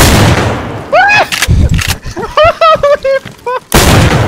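Gunfire in the video game DayZ comes as loud, sharp shots at the start and end, with a player shouting in between.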